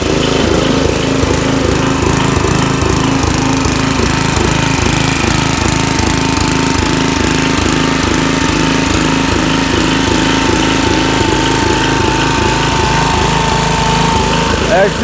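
A small Briggs & Stratton mower engine runs steadily at close range with the blade disengaged, a loud rhythmic chugging drone that holds constant throughout.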